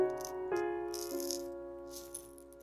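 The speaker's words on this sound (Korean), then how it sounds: "미카 레진이 석광랑 비슷하다 보니 속재료 소리가 맑게 잘 느껴지네요" Small charms rattle and clink inside a hard resin shaker in a few brief shakes, light and close, over a faint steady tonal hum.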